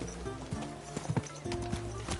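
Horse hooves clip-clop at a slow walk in the medieval game Kingdom Come Deliverance 2, a few uneven hoof knocks over game music and ambience, with a brief louder pair of steps midway.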